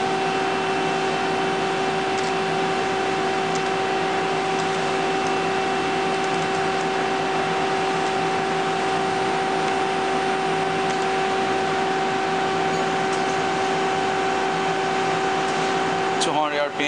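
A 2008 Mazak Nexus QT 250II CNC lathe being jogged gives off a steady, even hum with fixed tonal whine, constant and close throughout, and a brief clatter right at the end.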